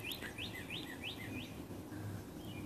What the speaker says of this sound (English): The tree swallows moved in